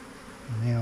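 A honey bee swarm buzzing close by, a dense insect drone that swells sharply in loudness halfway through and stays strong to the end.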